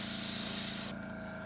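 Aqua paint is sprayed in a light mist onto a scale model water scene, a steady close hiss for about a second that cuts off abruptly, leaving a low background hum.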